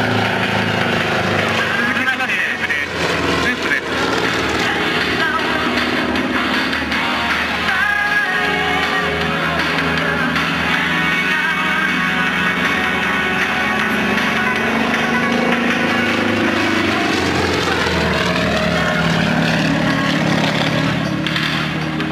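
An aerobatic aircraft engine drones through a hammerhead maneuver, the pitch rising and falling as the plane climbs vertically, pivots and dives, while an announcer talks over it throughout.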